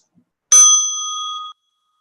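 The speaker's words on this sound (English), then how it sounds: "As you listen to the bell" A meditation bell is struck once, a sharp bright onset followed by a clear ringing tone with several pure overtones that decays over about a second before stopping abruptly in otherwise silent surroundings.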